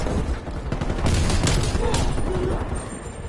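Sustained bursts of DMR-14 rifle fire in the Call of Duty Cold War video game, rapid loud shots mixed with in-game noise, with voices faintly talking over the action.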